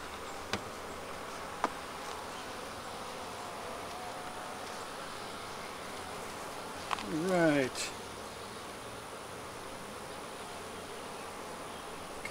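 Honeybees buzz steadily in an opened hive, a soft continuous hum close by with a few faint clicks and a brief louder rustle near the middle.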